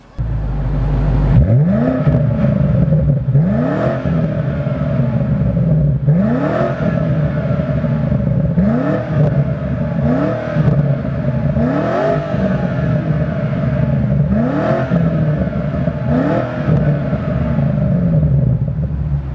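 A 2025 BMW M5 quad-tip sports exhaust revs over and over, each rev swelling and falling in a steady rhythm above a deep idling rumble, loud and close.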